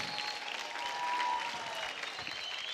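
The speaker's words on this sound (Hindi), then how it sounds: "जोरदार ताली हो जाए" A studio audience on the Zee TV dance show Dance India Dance applauds in a steady, even wash of clapping that swells slightly midway. It sounds somewhat distant and soft, with no voices over it.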